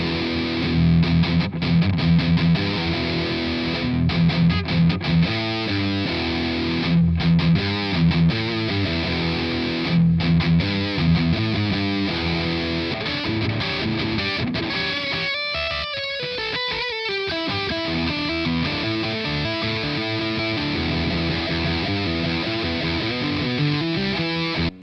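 Electric guitar played through the M-VAVE Tank Pro multi-effects unit on its Metal Chop preset gives heavily distorted, tight palm-muted chugging riffs and sustained chords, loud and dense throughout with a short choppy break midway.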